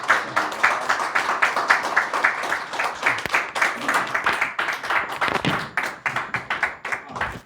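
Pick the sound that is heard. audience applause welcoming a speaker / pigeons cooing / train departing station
audience applause welcoming a speaker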